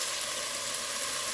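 Minced garlic sizzles steadily in a hot pan on a home stovetop, a close, even hiss of frying with no breaks and no voices.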